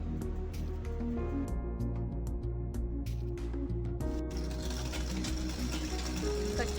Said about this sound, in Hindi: अब इसमें हम सिलाई लगाना शुरू करेंगे